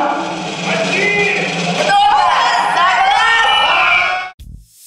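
A crowd at a beauty show's winner announcement erupts in loud cheering, whoops and screams for the winning team, sustained and dense for about four seconds before cutting off abruptly.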